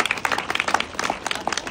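A small group claps at a religious gathering, with sparse, uneven individual claps heard fairly close and rhythmically irregular for under two seconds.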